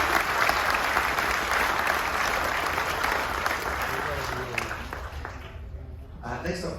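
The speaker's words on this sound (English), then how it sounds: "if we can give them a huge round of applause" A shipboard military appreciation crowd aboard Carnival Magic gives World War II veterans a sustained round of applause, dense and steady at first, then thinning out to scattered claps.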